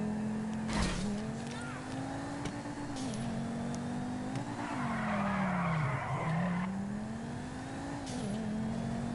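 A drift car in Grand Theft Auto 5 slides with a steady tire squeal over a droning engine whose pitch wavers as the throttle shifts, loud and continuous, with a sharp impact near the start.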